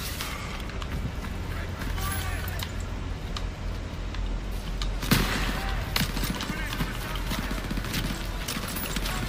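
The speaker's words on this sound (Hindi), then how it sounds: "अपने बंदे फायरिंग करने लगातार" Steady gunfire and fusillades in the World War 2 shooter Call of Duty: WWII, during a church escape level, with dense battle noise throughout and a sharper loud burst midway.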